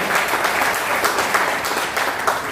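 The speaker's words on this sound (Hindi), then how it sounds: "एक बार जोरदार ताली होनी चाहिए" Steady, dense applause from a crowd at a Hindu gathering, moderately loud and continuous with no voices over it.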